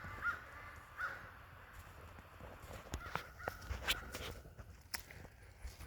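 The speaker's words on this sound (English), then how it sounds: "there's my awesome crows." Crows caw outdoors on a rural property, several sharp calls spread across the clip, some near and some farther off, with footsteps and quiet rustling in between.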